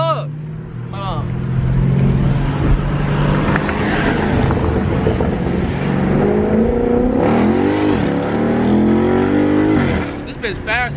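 Dodge Charger Scat Pack V8 fitted with a JLT cold air intake revs loudly and deeply, rising and falling in pitch through several pulls, with excited voices talking over the engine.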